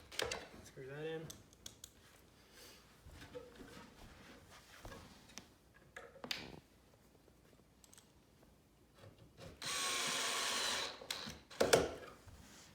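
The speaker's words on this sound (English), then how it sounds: "Screw that in." A drill drives silver screws into wood during a farmhouse wall cubby and coatrack build, giving one brief loud whirring burst of about a second and a half. Quiet handling noises and a person talking come before it.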